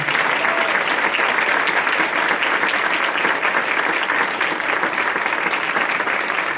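A school audience at a grade 7 awards day gives sustained applause, dense and even, with many hands clapping steadily throughout and no talking over it.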